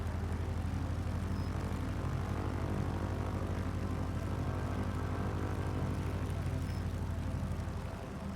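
Simulated radial engine of a PT-17 Stearman biplane in a flight simulator game drones steadily and loudly for the whole stretch, an even propeller hum with no talk.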